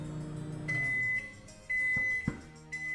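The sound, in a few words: microwave timer being set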